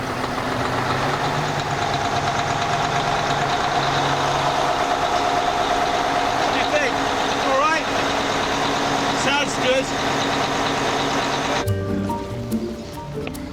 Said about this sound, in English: Go on then, start her up. Let's have a listen to it.